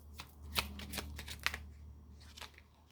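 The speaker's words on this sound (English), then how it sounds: "I'm just gonna shuffle again and see" A deck of tarot cards being shuffled by hand during a reading, with soft, quick riffling bursts repeating several times at low volume, close by, with no talking.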